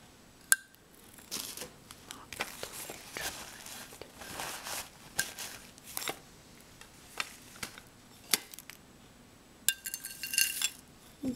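A large spoon clinking as it scoops loose chamomile tea, giving faint, scattered light taps and clinks with soft rustling in a quiet room.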